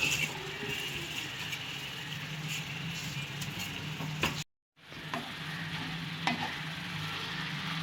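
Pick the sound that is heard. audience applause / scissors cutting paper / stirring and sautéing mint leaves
stirring and sautéing mint leaves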